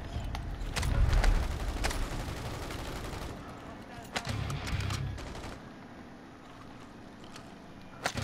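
Gunfire in a Call of Duty match, bursts of rapid shots and distant rumbling blasts at moderate volume, fading toward a quieter stretch near the end.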